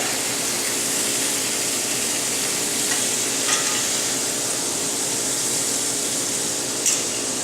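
Chops sizzle loudly and steadily on a hot pan that already holds potatoes and spinach, a dense continuous hiss with a couple of brief sharper spits.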